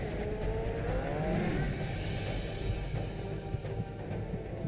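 A car accelerates hard in the Tomb Raider Legend video game, a loud continuous engine roar rising in pitch over a few seconds, steady and close with no talking.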